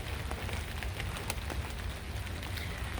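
Rain falls outside over a small in-ground garden, a dense even patter with scattered sharper drops, steady and moderately close, no voices.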